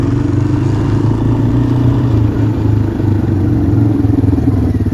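A quad bike engine runs steadily close by, a continuous low throbbing drone with a rough, pulsing idle rhythm and no voices over it.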